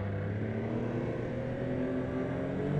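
Turbocharged Yamaha Sidewinder snowmobile engine droning steadily as it pulls onto a snowy trail, a low continuous hum rising slightly in loudness toward the end, with no talk.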